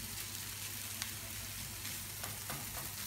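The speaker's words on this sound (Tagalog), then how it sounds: "halu-haluin lang po natin ang ating ginigisang sibuyas, bawang, at sabay na po natin ang hotdog" Onion, garlic and hotdog sautéing in a pan, a continuous sizzle and crackle of frying with occasional stirring clicks, steady and moderately faint, with no talking.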